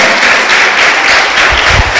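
Loud, continuous applause from a church congregation fills the space as a thick, even wash of clapping, with a few low thumps near the end.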